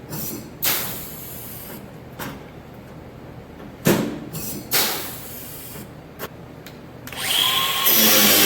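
Power drill tightening bolts on a combine feeder house: short close bursts of whirring and several sharp clacks, then a steady loud hiss of the tool running near the end.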